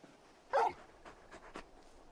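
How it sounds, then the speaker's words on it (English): A large dog in the Final Fantasy 16 video game gives one short, fairly loud yelp, then two or three faint, brief whimpers in otherwise quiet game ambience. "You're just a big puppy, aren't you? A very big puppy."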